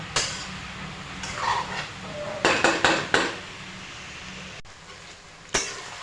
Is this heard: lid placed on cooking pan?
yes